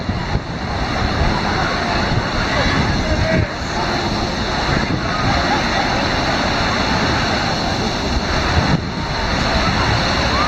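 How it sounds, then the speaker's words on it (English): Wave pool waves churn and break steadily at an outdoor water park, a continuous broadband wash of surf noise with crowd murmur and distant talk mixed in throughout. "The waves are on for 5 minutes and off for 5 minutes."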